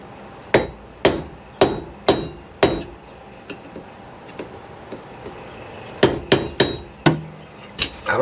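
A grease cap on the wheel bearing of a 2012 Aspen Sentry pop-up trailer is knocked off with a hammer, sharp metallic strikes at a fairly even rhythm, a pause, then more blows, over a background of insects chirping outdoors.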